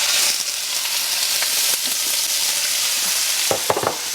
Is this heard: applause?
no